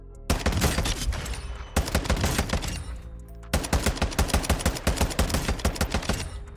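Full-auto rifle fire in Warzone comes as two rapid, evenly spaced bursts of sharp shots, close and loud, separated by a short pause.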